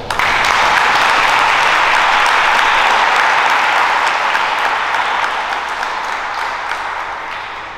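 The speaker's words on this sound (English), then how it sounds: "Let's give them a round of applause." An audience at a Saddle Brook police junior academy ceremony applauds in a loud, sustained burst of clapping that starts abruptly and slowly tapers over several seconds, with no speech over it.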